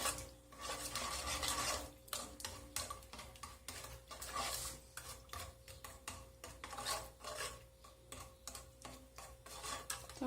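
A spoon stirs chocolate icing thickened with starch in a pan, making faint, rhythmic rasping scrapes against the metal in quick repeated strokes.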